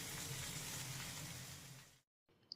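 Potatoes for a mutton curry frying in hot oil, a steady broadband sizzle for about two seconds that cuts off abruptly, then a quieter sizzle resumes with a small clink at the end.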